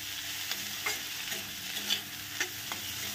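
Moringa leaves with turmeric sauté in hot oil for dal, with a constant sizzle and repeated scraping stirs that pop up at a loose rhythm, close and unaccompanied.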